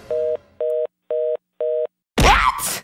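Four evenly spaced electronic beeps sound like a call-ended tone, followed by a burst of loud, harsh noise.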